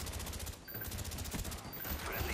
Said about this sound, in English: Is that my teammate shooting me?